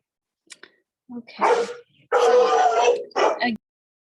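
Dogs barking in a home, a few short sharp barks and yips followed by two louder, longer bursts of barking, close by and with no talk over them.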